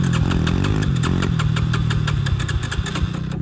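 A drift quad engine running rough and bogging, with a low uneven chug and rapid rhythmic pulsing that sags and stumbles. It sounds close and loud, with no talking.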